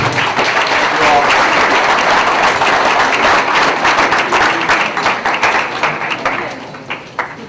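A large audience at a university event breaks into loud, sustained clapping, dense and continuous at first, then thinning into scattered claps as it fades out.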